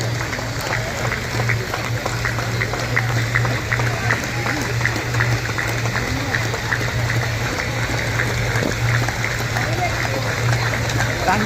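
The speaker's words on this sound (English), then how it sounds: "give them a real round of applause" An audience at a Bengal cricket association event applauds the winning under-15 team, a dense, sustained round of clapping at steady volume, with a voice speaking over it at times.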